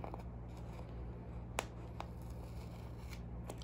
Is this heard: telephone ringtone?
no